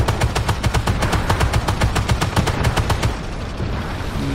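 Rapid automatic cannon fire from a Bradley in a tank simulation game hammers out about twenty sharp, evenly spaced shots over three seconds, then stops, leaving a low engine rumble.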